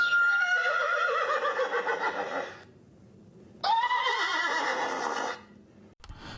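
Horse neighing, two long whinnies with falling pitch separated by a short pause, loud and close, followed by a brief thump.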